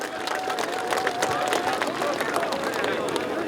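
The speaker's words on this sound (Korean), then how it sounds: "여러분 힘찬 박수, 환영의 박수 부탁드리겠습니다" Steady, dense applause rolls through an outdoor crowd at the unveiling ceremony for a President Park Chung-hee statue, mixed with murmuring voices and scattered cheers, evenly loud for its full length.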